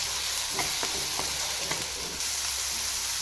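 Homemade black chilli powder, turmeric and red chilli powder sizzling in hot oil in a pan, with a spoon scraping and tapping several times amid a continuous crackling fry.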